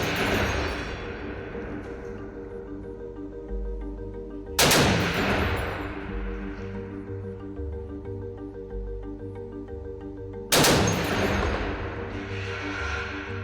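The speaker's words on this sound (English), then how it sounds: "OK, we're now loaded and we're now ready to fire. Short bursts?" Short bursts from a machine gun on an airfield firing range: a sustained loud volley, then two more separate bursts a few seconds apart, each a sharp onset ringing out and decaying, with no voices.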